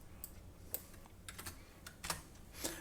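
Computer keyboard typing indoors, a handful of separate keystroke clicks and short bursts spread irregularly, close and moderately faint with no talking.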